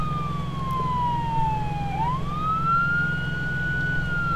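A police car siren in the video game Arma 3 wails in a slow rising and falling sweep over a low steady engine hum, clear and fairly close.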